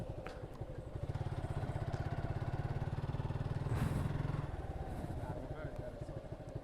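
A Suzuki Monotone motorcycle engine runs steadily up close, nearly running out of fuel on carburetor petrol, with a continuous low throbbing idle that swells slightly midway and keeps going to the end.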